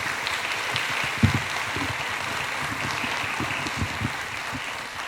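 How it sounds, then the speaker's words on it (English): An audience at a St. Louis workforce event applauds steadily, a dense patter of clapping hands that continues evenly throughout with no talking. "Could you all give them a round of applause?"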